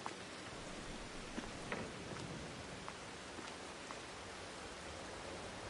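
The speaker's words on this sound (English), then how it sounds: "Oh, and it's raining. Of course it is." Steady rain hisses across the scene in Farming Simulator 22, a soft, even wash of drops with a few brief patters standing out, no talk over it.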